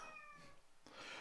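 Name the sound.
cat meowing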